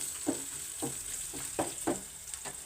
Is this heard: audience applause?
no